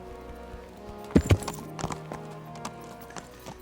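A horse in the medieval game Kingdom Come: Deliverance, with a couple of clear hoof clops followed by lighter, scattered steps over a faint background hum.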